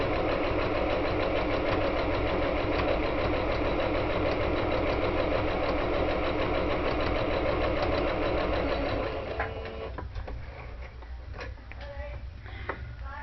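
A sewing machine runs a straight stitch with the presser foot down, its fast, steady mechanical whirr and ticking close and continuous, then stopping near the end, followed by light handling clicks.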